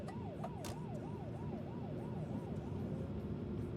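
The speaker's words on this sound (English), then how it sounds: "Another police car?" A police car siren in the Euro Truck Simulator 2 driving game wails in a steady rising-and-falling cycle over a constant low truck engine drone, with no talk.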